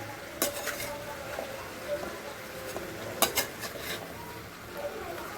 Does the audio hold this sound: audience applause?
no